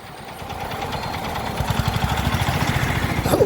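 A steady motorcycle engine drones at close range while riding, its low pulsing throb growing more pronounced partway through, with wind rushing over it.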